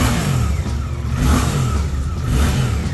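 A 2024 Suzuki GSX-8R with a 270-degree parallel-twin engine revs hard and close by, a loud throbbing growl rising and falling through several throttle blips, with no talk over it.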